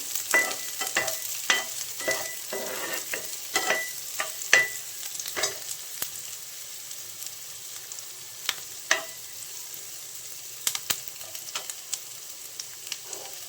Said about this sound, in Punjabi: ਪਿਆਜ਼ਾਂ ਨੂੰ ਵੀ ਥੋੜਾ ਜਿਹਾ ਆਪਾਂ ਇਸ ਤਰੀਕੇ ਨਾਲ ਹਿਲਾਉਂਦੇ ਹੋਏ ਥੋੜੇ ਥੋੜੇ ਭੁੰਨ ਲਾਂਗੇ